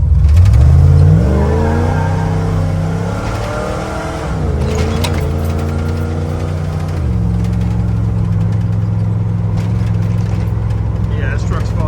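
A big block Ford 460 truck accelerates hard, its engine note climbing as it revs up through the gears, then dipping and rising again. The sound is loud and close, heard from inside the cab.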